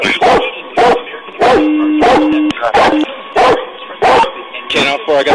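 A police dog barks repeatedly and aggressively during an arrest, sharp loud barks in quick bursts mixed with yips, while officers shout commands over it.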